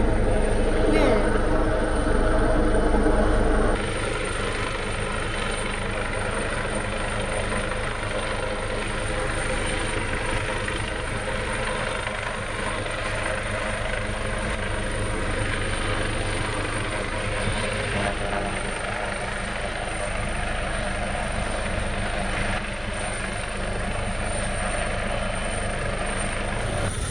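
A helicopter's steady rotor thrum and engine roar over a remote bay in storm-force winds fills the whole stretch, loud and close, louder at first then holding steady, with voices faintly underneath.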